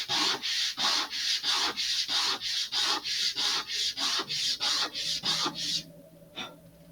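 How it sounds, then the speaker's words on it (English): Laser-cut wood parts of an Estes model rocket being sanded by hand, a close, even rhythm of about a dozen rasping strokes that stop near the end, with no talk. "That's better, but let's sand a little bit more."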